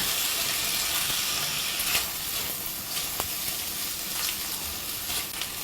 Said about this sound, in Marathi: एखाद मिनिटभर या भाज्या परतायच्यात आपल्याला.